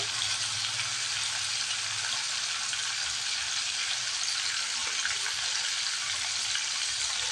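Desi chicken meat with plenty of fat frying in hot oil, a steady even sizzle throughout with no talking.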